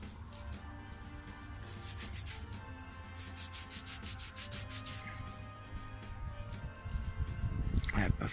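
Dirt is scraped off a small coin, about 5-centime size, freshly dug up while metal detecting outdoors: close, steady rubbing and gritty scratching that grows louder and rougher toward the end.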